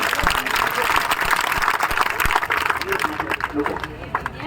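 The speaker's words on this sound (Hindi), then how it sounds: "जोरदार तालियां बजा दो।" Crowd applause at a community society gathering in Rajasthan, a dense continuous wash of clapping from many hands, loud and close, with voices and crowd noise mixed in throughout.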